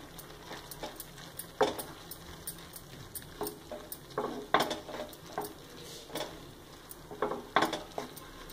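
A spoon stirs ridge gourd and moong dal curry with ground coriander and fresh coriander leaves in a pan, giving irregular close scraping and clinking knocks against the metal over a quiet kitchen background.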